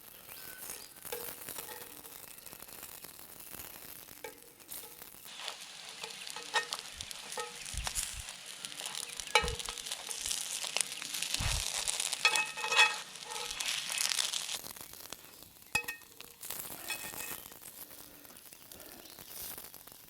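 Dim sims fry in a pan over glowing campfire coals during Aussie bush cooking, a steady close sizzle with occasional clatters as they are turned, crickets and birds faint in the background.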